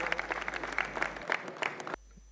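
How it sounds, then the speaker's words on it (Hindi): Applause for a classical music team honouring Pandit Bhimsen Joshi at a Sanskar Bharati cultural programme comes as a brisk burst of clapping that cuts off abruptly near the end. "पुनः एक बार हम करतल ध्वनि से तालियों से उनका अभिवादन"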